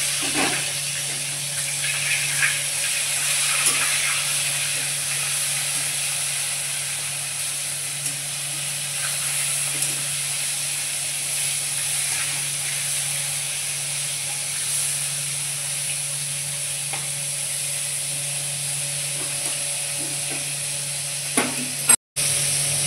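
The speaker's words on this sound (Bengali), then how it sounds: "দেখুন মাছটা ভালো লাল ভাজা হয়ে গেছে" Soft, continuous sizzling of birikit fish frying in oil, close by, with occasional light clicks and a low steady hum underneath.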